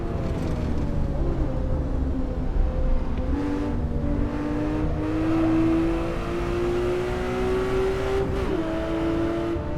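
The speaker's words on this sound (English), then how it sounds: "See, hear that engine revving out." A Singer car engine in the Assetto Corsa racing game revs out toward 8,000 RPM, a steady loud drone whose pitch climbs gradually and then dips briefly near the end.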